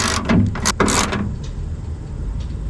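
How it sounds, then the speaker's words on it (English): A ratchet with a 13mm socket tightens the bolts on a Sprinter van's LED pod mount, making rapid, loud, close clicking bursts that fade to quieter handling noise. "13mm socket or wrench. So you just tighten these down."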